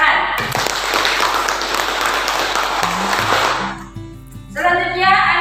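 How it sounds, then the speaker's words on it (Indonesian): A school class claps together after a group presentation, a loud dense round of applause lasting a few seconds before it dies away and a voice starts talking. "Tepuk tangan."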